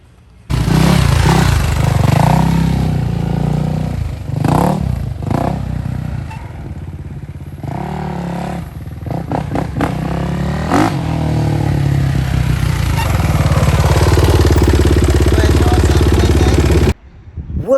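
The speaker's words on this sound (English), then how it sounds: "you going on the bike, Mo." A Kawasaki KX450F dirt bike engine runs close by, revving up and down in repeated sharp bursts between rough idling, loud and raspy, with a clattering edge.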